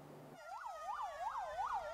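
Siren of a fire engine sent to fight a fire at a hospital canteen, a loud rising and falling wail that sweeps up and down about four times, close and clear, with no talk.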